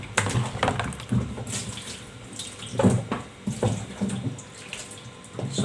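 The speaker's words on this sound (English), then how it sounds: "I'm going to pour water and make sure I give this a thorough wash" Water poured by hand over unripe green plantain to wash it, splashing and trickling in uneven bursts with a few sharper splashes, close and moderately loud, with no voices.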